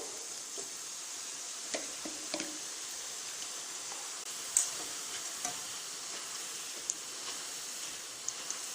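Boondi batter drops frying in hot oil for sweet boondi, a steady soft sizzle with faint crackles and small pops, fairly quiet and continuous with no talk.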